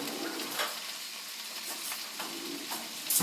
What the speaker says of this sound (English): And I'm just going to let that cook on medium-high heat.